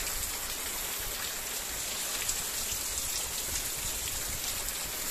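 Torrential end-of-year downpour over a district in Ceará, Brazil, roaring as a constant, thick wash of raindrops hitting the ground and roofs, even and loud from start to finish.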